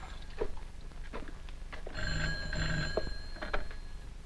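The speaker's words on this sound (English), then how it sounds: "That phone always rings when we're working." An old telephone bell rings in a 1940s film scene. The steady ringing rises about halfway through and stays fairly soft against a hissy background.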